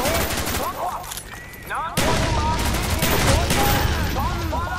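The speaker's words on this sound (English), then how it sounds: "Kill 10 NVA with Dragon's Breath round." Dragon's Breath shotgun rounds firing in Call of Duty: Black Ops, part of a dense, loud battle with repeated blasts and overlapping machine-gun bursts. The firing thickens sharply about halfway through.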